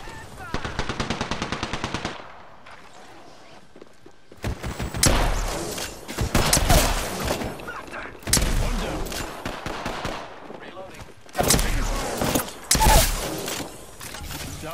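Apex Legends gunfire: a quick, steady string of automatic shots opens, then after a pause heavier, denser volleys and impacts crackle loudly in several bursts, with short in-game voice lines mixed in.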